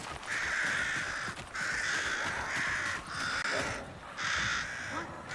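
A crow in an extraction shooter game gives a series of harsh, drawn-out caws, about five loud calls in steady succession, close and clear with little else around.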